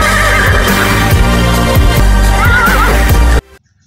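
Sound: toy horse neighing

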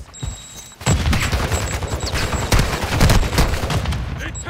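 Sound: grenade explosion and gunfire in a video game, Semtex thrown

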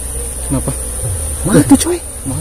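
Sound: wild honey bees swarming out of a cliff nest

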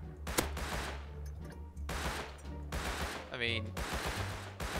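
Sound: gunfire in Rust video game

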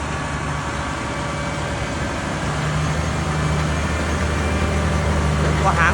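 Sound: heavy truck engine straining uphill

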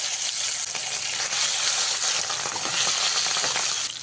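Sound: rohu fish pieces frying in oil

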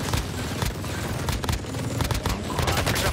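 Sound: hip-fired gunfire in the Warzone video game

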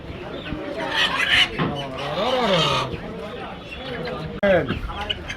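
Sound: chickens clucking at a chicken shop

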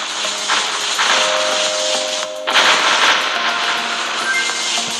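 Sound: enemy shooting in Galaxy Attack Alien Shooter video game

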